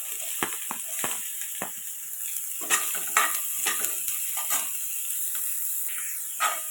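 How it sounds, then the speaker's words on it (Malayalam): Chopped onions sauté in a tablespoon of coconut oil in a pan, a steady close hiss and sizzle with repeated scraping taps of a spoon stirring, moderately loud and without speech. "ഇതുപോലെ ഒരു പാൻ വെച്ച് 1 ടേബിൾ സ്പൂൺ വെളിച്ചെണ്ണ ഒഴിച്ചു കൊടുത്തിട്ടുണ്ട്. അതിലോട്ട് സവാള ചോപ്പ് ചെയ്തത് ഇട്ട് കൊടുക്കാം."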